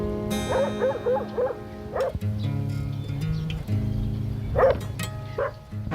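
Dogs barking in a cemetery, several quick bow-wow barks in a row near the start, then a louder single bark later, over a low background hum with no talking.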